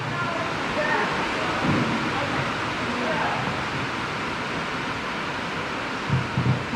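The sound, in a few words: loud rain during meeting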